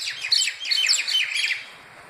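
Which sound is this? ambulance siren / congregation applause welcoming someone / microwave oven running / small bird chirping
small bird chirping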